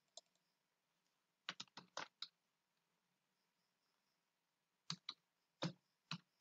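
Quiet typing on a computer keyboard, two short bursts of a few crisp key clicks separated by a pause, close and faint.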